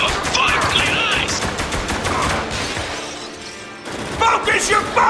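Gunfire in the shooter game Spec Ops: The Line, dense rapid bursts of automatic fire with sharp cracks and clattering impacts, loud and close, briefly dropping off before resuming, mixed with shouted squad voices.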